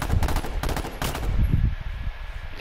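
Rapid gunfire bursts in the battle royale game H1Z1, several loud machine-gun volleys in the first second or so, followed by a lower rumble of shots and game noise, with no speech.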